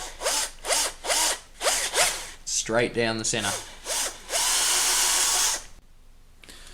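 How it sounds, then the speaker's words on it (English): A power drill with a 10mm bit whirs in repeated short bursts boring a plastic Nerf gun barrel, then runs in one long continuous grind before stopping; a voice speaks briefly between bursts. "we're going to run a 10mm drill bit"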